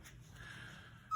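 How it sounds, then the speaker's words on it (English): A dog whimpers faintly in the background, with a thin drawn-out whine and a short sharper yelp at the end, no talking. "I apologize if you hear my dog whining in the background."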